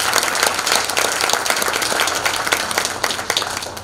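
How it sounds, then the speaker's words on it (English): Dense audience applause fills a seventh-anniversary celebration of the Carolinas Chinese business association, a steady wash of many hands clapping at moderate loudness that fades slightly toward the end. "Let's give a good applause for good life."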